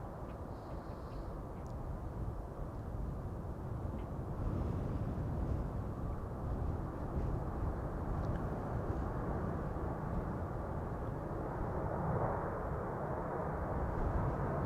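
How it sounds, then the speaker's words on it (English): A Cathay Pacific Airbus A350-1000 takes off from Amsterdam Schiphol, its engines producing a loud, sustained broadband roar that swells slightly over time and blends with wind noise. "A350-1000 to Hong Kong, Cathay Pacific flight 270"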